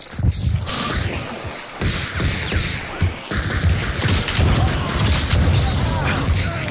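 Gunshots and heavy booming impacts in Hunt: Showdown, loud and close, coming in repeated bursts over a constant rumbling game mix, with no voices on top.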